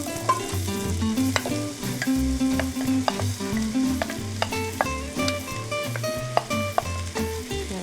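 Chopped onion frying in butter and olive oil in a pot, a steady sizzle with repeated clanks and scrapes of a utensil stirring against the metal, close and fairly loud, no talking.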